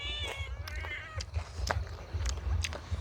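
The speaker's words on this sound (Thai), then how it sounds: "แมว" A cat meows twice in quick succession near the listener during a chilly evening at home. The sounds are clear and rising, over a steady low rumble with scattered clicks and taps.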